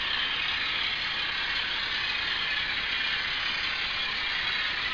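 An Atlas RS-1 model locomotive's DCC sound decoder runs at higher throttle, producing a continuous, even mechanical engine drone with a rattling texture and no pauses or talk.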